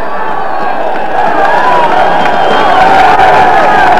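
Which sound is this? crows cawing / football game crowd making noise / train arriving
football game crowd making noise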